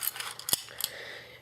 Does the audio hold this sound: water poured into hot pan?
no